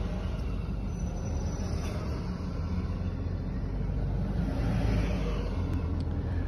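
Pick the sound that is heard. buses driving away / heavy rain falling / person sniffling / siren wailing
buses driving away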